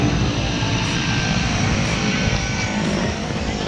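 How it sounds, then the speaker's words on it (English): Steady, loud drone of a propeller airplane engine running before a skydive, a dense rumbling roar heard up close and continuous throughout without pauses. "That plane's going to start in just a few seconds, and then it's go time."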